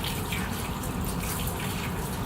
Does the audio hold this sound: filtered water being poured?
yes